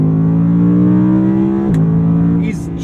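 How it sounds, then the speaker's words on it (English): Audi R8 V10 engine droning loudly and steadily from inside the cabin, a sustained high-rpm tone that dips briefly as if shifting gears, then continues under faint wind noise. "That noise fills the cabin."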